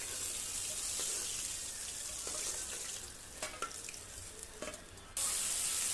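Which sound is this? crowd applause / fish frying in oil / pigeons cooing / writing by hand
fish frying in oil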